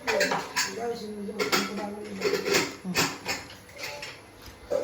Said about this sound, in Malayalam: അമ്മമ്മ ഇസ് ബിസി വിത്ത് പാത്രം കഴുകൽ